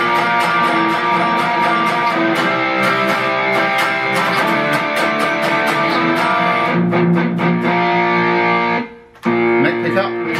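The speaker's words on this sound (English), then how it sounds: "Okay, let's try a bit of distortion." Distorted Fender Jag-Stang electric guitar on the bridge pickup, loud and continuous with gritty sustained chords and a string of choppy strums, a short cut-off near the end, then more playing.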